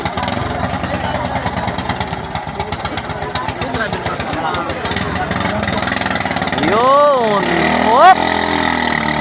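The engine of the Hagunot Black racing boat at a Bilayakid festival boat race: a rough, steady pulsing idle that swells into rising revs near the end, with voices shouting over it.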